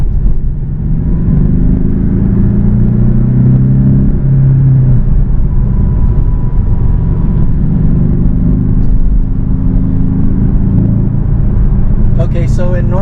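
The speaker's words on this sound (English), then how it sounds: "you can hear the intake sucking in air as I'm letting go of the gas, and that's giving me that growl sound" A Porsche Cayman 718 with a flat-four turbo engine and an aftermarket RaggDoll Motorsports turbo inlet, heard from the cabin as a steady loud low engine rumble with a growling intake note as the throttle lifts, plus a faint clatter at the end.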